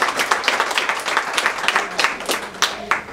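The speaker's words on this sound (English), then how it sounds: "Big round of applause for all of these folks as well." An audience at a free clinic's 25th anniversary celebration gives a lively round of applause, close and loud with distinct individual claps crackling through a crowd murmur.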